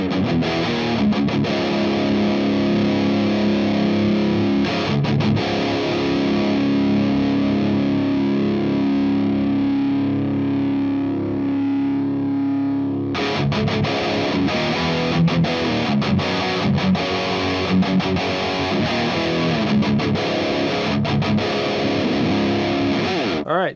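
Redseven The Dirt, a hot-rod Marshall-style amp, carries a loud distorted electric guitar with chugging palm-muted riffs, sustained chords and a brief gap before more choppy riffing, with no talk over it.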